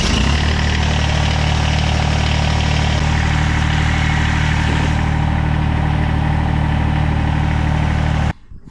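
A Kubota BX2680 compact tractor engine idles steadily and close by, a deep even drone with no talk over it, running for about eight seconds before cutting off abruptly near the end.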